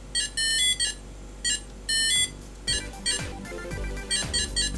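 Electronic bleeps and bloops from the Epoch-Man handheld LCD game: choppy bursts of high tones that give way to faster, busier sweeping blips and chirps, all close and with no voices.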